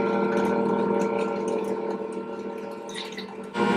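A cup of milk pours into lemon poppyseed muffin batter made with freshly milled flour, a steady close liquid gurgle that fades slightly before a brief splashy swell at the end.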